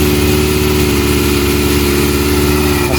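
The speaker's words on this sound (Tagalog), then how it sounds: "Mas naririnig pa nga yung makina eh." A Kawasaki ZX-4RR motorcycle engine idles on a cold start, a steady, loud, close mechanical hum with an even, rapid firing pulse throughout and no talk.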